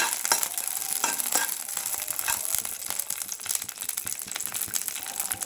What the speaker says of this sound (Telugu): ఇవి కొద్దిగా బ్రౌన్ కలర్ వచ్చే వరకు అయితే వేయించుకోవాలి.